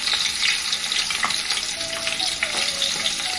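Onions sizzle and fry in a pan for a brinjal biryani, a steady close hiss with occasional stirring scrapes and no talking.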